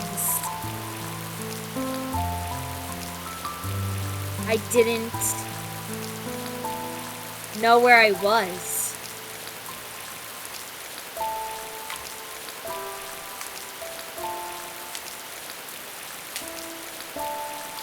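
Steady, heavy rain pours down in an even wash that continues throughout, beneath soft piano-like music, with one short spoken line partway through.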